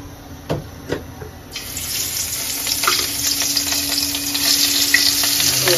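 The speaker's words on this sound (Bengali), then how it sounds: "তো এখানে আমি মাছটাকে ভেজে নেব।" Hilsa fish pieces fry in oil in a wok, opening with a few soft knocks before a loud, close, continuous sizzle takes over and holds steady.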